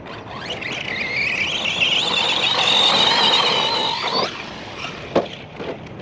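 An Arrma Granite 3S V3 RC car lets out a loud, close, high-pitched motor squeal that rises and holds for about four seconds during a launch, then drops away, followed by a few short knocks.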